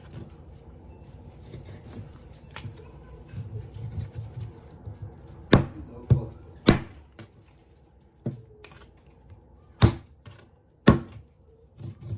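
A knife cuts turkey meat on a board, giving several sharp, separate chops spaced irregularly over soft background rustling, close and fairly loud.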